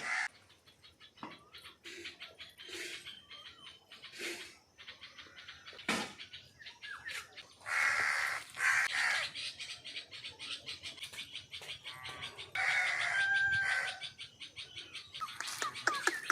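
Backyard chickens being rounded up squawk and cluck in repeated loud bursts, with intermittent rustling and faint background chirps between calls.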